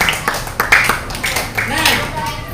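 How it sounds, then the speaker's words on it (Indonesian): A class of children at an Islamic studies lesson clap their hands together in a loud, dense burst of applause, with children's voices and chatter mixed in throughout. "Tepuk tangan semuanya."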